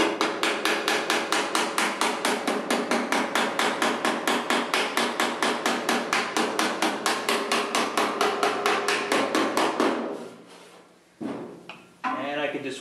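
Pick side of a hammer tapping low spots up on a metal body panel of a Ford Free-T, a fast steady run of ringing metallic strikes, close and loud, that stops and is followed by a few scattered knocks.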